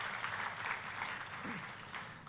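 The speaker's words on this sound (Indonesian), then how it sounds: "Tepuk tangannya yang meriah buat Tuhan" A church congregation applauding during a sermon, a dense, even wash of clapping heard from a distance at low level, with faint voices underneath.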